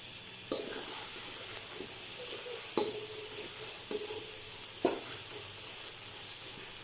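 Spices stirred and frying in a pan for vegetable pulao, a steady close sizzle with a few sharp scrapes of the spoon against the pot every couple of seconds.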